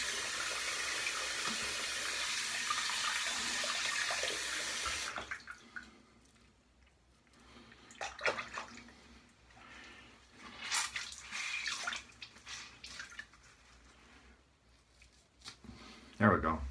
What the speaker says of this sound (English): Rinse off the handle here.